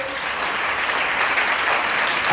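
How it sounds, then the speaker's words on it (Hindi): Congregation applauding during a church service, loud sustained clapping from many hands that holds steady and swells slightly toward the end, with no voices over it. "एक बार फिर से जोरदार ताली बजाओगे"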